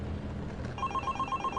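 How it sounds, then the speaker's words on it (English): A telephone starts ringing partway through with a rapid, repeating electronic trill that stays clear and fairly loud over a low background murmur. "Then the phone rang"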